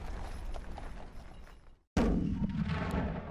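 Type 92 infantry guns, 82 mm mortars and grenade launchers pound a defensive position in a 1940 Shandong battle. The sound is a dense, sustained roar of booming fire that cuts out briefly, then returns louder and heavier.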